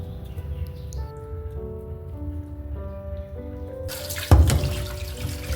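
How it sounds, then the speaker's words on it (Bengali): Fresh rohu fish rinsed under a running kitchen tap, first a soft trickle, then a loud rush of water splashing into the sink for the last couple of seconds. "মাছটাকে ভালো করে ধুয়ে নিচ্ছি যাতে মাছের গায়ের পিছলা পিছলা ভাবটা চলে যায়"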